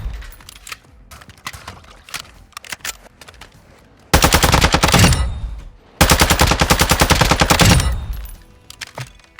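Automatic ISO Hemlock fire in Warzone 2.0 on Ashika Island, with a few scattered shots followed by two long, loud, rapid sustained bursts, close and dense, with no talk over them.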